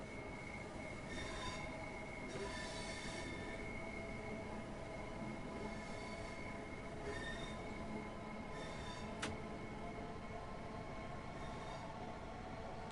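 A train in Train Sim World 2 on the Arosa Line rolls along the rails with a constant rumble, periodic metallic wheel squeals and a sharp click partway through, no voices.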